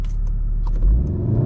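A 2014-2019 VW Golf 7 R with stability control switched off and the throttle floored, giving a deep, steady engine rumble that swells slightly midway.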